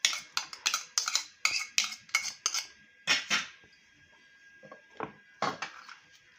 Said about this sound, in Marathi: खिमा मी काढून घेते दुसऱ्या भांड्यात मोठ्या।